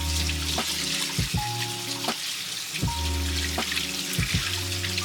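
Tap water runs steadily over raw chicken livers soaked overnight in milk as they are washed in a colander, a close, continuous splashing with a few brief clinks and handling sounds.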